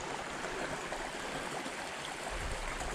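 A water source stream at a backpacking trailhead camp on the Olympic coast of Washington flows steadily, a continuous close rushing and gurgling with no voices.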